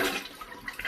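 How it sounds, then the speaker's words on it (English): Toilet flushing after a tank flapper replacement, a close, full rush of water that starts loud and settles into a steady, softer swirl and refill over under a second. "we're gonna flush this thing"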